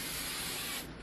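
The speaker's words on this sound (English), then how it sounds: "spray the pan you're going to use with any type of spray" A short, continuous hiss of cooking spray coated onto a pan for cake pops, close and steady for about a second before tapering off.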